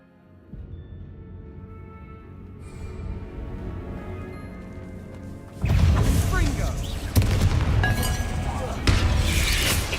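Explosive spells crash and shatter against giant spiders in the Hogwarts Legacy video game: quiet ambience builds, then loud blasts hit from the middle onward, with a couple of sharper bursts following.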